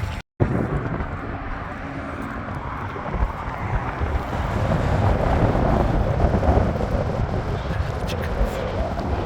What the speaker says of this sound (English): the wind is blowing really, really hard